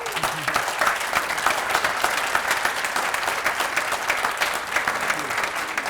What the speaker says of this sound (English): Give a round of applause to our UXperts,